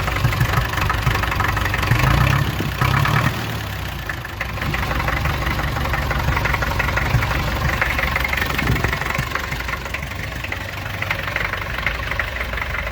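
A homemade tractor engine idles steadily with a low, rough knocking rumble throughout, close by, with a brief louder surge near the start and no voices.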